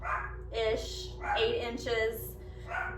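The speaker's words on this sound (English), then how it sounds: "I apologize for my dogs barking" Dogs bark indoors while sourdough strawberry shortcake dough is pressed out by hand. Several sharp, fairly close barks come in bursts over a person talking.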